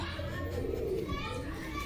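A female pigeon at a village bird market in Beldanga gives a low, soft coo, close by but nearly buried under someone talking and children's voices in the background.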